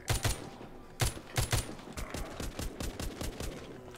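Gunfire rings out while shooting zombies in The Walking Zombie 2, a string of sharp close shots, first a few spaced bursts and then a quicker, quieter rhythmic run of rounds, with no talking.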